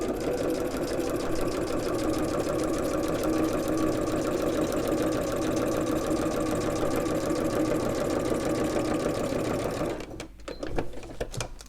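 Sewing machine stitching lines across a sheet of paper chenille, a fast, even mechanical chatter running continuously and close for about ten seconds, then stopping, followed by a few faint handling clicks.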